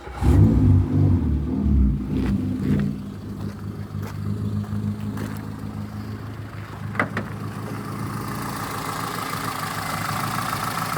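A Peugeot 106 car engine cranks and catches with a loud low rumble, briefly revs, then settles into a steadier idle, close by with a few clicks and knocks over it.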